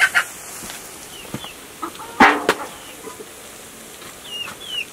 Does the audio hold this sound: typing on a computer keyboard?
no